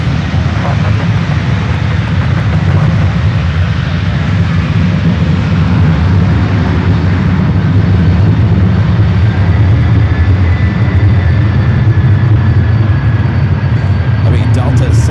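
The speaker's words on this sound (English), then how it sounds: "Delta 767 at 300 ER, now heading over here to 1 right" A Delta Boeing 767-300ER jet approaching the runway at SFO makes a loud, continuous engine roar for the whole stretch, heard from nearby, while voices carry on beneath it.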